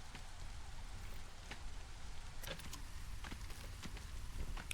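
Soft drizzle in the Against the Storm colony game, a faint steady hiss of light rain with scattered small drop ticks, quiet and continuous with no talk.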